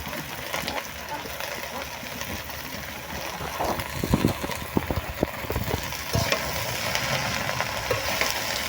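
Chopped Malabar spinach fries with potatoes in a pan, giving a steady, close sizzle throughout, broken by scraping and clattering from stirring, with a voice speaking over it.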